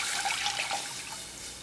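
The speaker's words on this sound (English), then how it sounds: "you're going to add the 2 cups of water into your pan." Two cups of water are poured into a cooking pan for parsley tea, giving a steady, hissing splash that runs evenly and close by for under two seconds with no talking.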